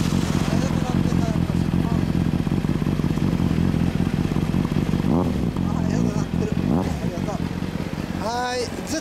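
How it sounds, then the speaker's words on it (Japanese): A motorcycle engine runs steadily and loudly close by, with a throbbing idle and a few blips of revving, while people talk over it. "エンジンかけて。 エンジン音聞かせて。"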